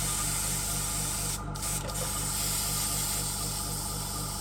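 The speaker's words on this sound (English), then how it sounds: "And then I'm just using an airbrush cleaner." An airbrush sprays airbrush cleaner in a steady close hiss with an underlying compressor hum, briefly interrupted by two short breaks, with no voices.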